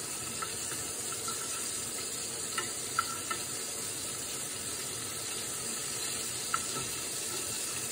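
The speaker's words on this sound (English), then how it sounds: "Get a little onion caramelized." Onion fries and caramelizes in a pan with a quiet, steady sizzle and a few faint crackles and pops scattered through.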